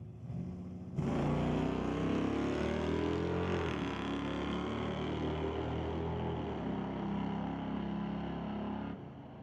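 A 1994 Camaro Z28 drag racing at a raceway, its engine roaring loudly and steadily at high revs for several seconds before the throttle lifts and the sound cuts off near the end.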